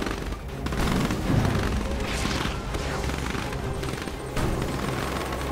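A sustained barrage of gunfire and booming blasts in the video game Command & Conquer 3 rolls on continuously, dense and loud, with a few sharper shots standing out.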